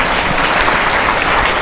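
Applause from an audience at a prize distribution during an Independence Day function, a brief, dense burst of steady clapping at close range.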